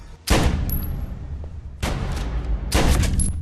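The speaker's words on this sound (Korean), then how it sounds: "총성이 울리며 순식간에 비상사태에 돌입하며" Gunfire in an assassin thriller film: three loud, close blasts, each followed by a sustained roaring echo, spaced about a second apart, with no talk.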